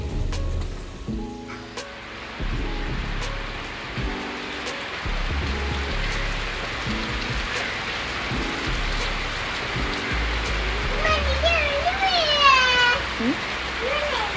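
Steady rain patters on a surface throughout, with brief voices and a cat's meow rising near the end.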